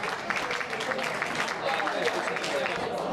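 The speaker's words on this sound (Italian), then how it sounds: "L'applauso per Alessandro Dell'Orso." Applause for a cyclist at an amateur cycling awards festival, steady moderate clapping from a crowd with a voice talking over it.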